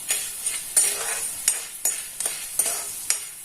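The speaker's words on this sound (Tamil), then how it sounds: "இந்த ஸ்டேஜ் வர வரைக்கும் நம்ம நல்லா வறுத்துக்கணும்" Almond gum roasts in a pan, giving a soft dry sizzle broken by repeated scraping and stirring strokes roughly every half second.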